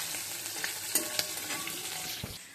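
Hilsa fish from the Padma river fries in oil in a pan, giving a continuous close sizzle and crackle broken by a few spatters and light scraping clicks of a spatula.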